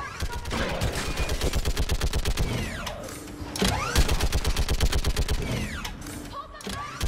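A mounted gun fires in Mass Effect 3, hammering out long rapid bursts of shots that are loud and close. A short pause breaks the fire partway through, and the bursts are laced with whooshing projectile sweeps.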